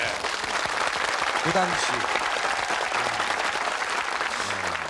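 A studio audience breaks into dense, sustained applause on a Korean TV talk show about the Marine Corps, with a voice speaking briefly through the clapping.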